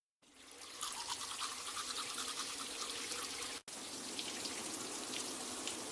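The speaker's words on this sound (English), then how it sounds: "I brush my teeth." A toothbrush scrubbing teeth, a quick bristly rasping close to the ear that runs steadily with one brief break partway through.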